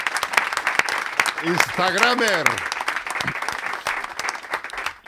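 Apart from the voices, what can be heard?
studio audience applause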